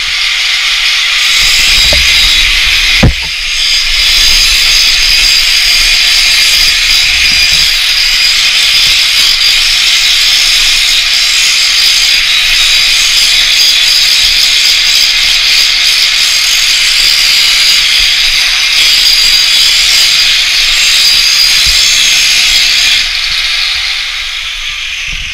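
An angle grinder disc cuts and grinds through chunks of steel with a loud, sustained, harsh hissing whine that holds for over twenty seconds, with a brief knock near the start.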